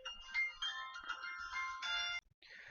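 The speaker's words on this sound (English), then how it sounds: "That was my phone." A mobile phone ringtone plays a bright melodic tune of repeated tonal notes for about two seconds, then cuts off abruptly and a brief trailing phrase follows.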